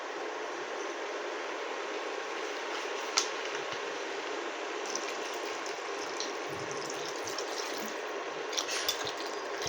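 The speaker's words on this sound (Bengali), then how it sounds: "আরও খানিকটা জল দিয়ে নেব আমি।" Water pours steadily into a pot of thin fish curry with drumsticks, a continuous rushing, splashing stream heard close by for several seconds with a few small clinks.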